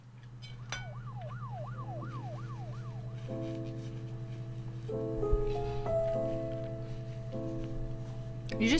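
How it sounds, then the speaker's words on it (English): A wailing emergency siren sweeps up and down, then shifts to a steady alternating tone, over a constant low hum during the Her Story video game; moderately loud and continuous, with no speech. "I swear I heard like sirens."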